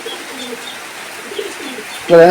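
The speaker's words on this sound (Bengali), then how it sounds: "চমৎকার কবুতর অনেক সুন্দর কবুতর" Pigeons at a large pigeon market in Khalishpur, Khulna, give a few soft coos and chirps that stay faint in the background before a louder burst of sound at the end.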